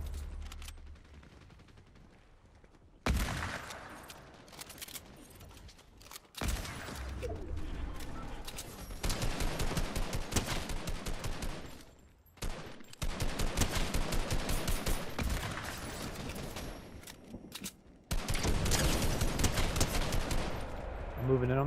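Bursts of rapid automatic gunfire in a Fortnite match, loud and sustained across several long volleys separated by brief gaps.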